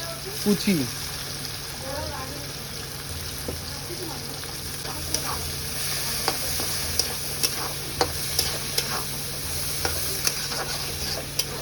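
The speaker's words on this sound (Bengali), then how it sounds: "প্রথমে তেল চলে গেলো তারপর চলে যাচ্ছে পরিমাণ মতো জিরে এবার চলে যাচ্ছে পেঁয়াজ" Chopped onion and cumin fry in hot oil in a pan, a close, steady sizzle running throughout with regular stirring scrapes and faint clicks, and no speech.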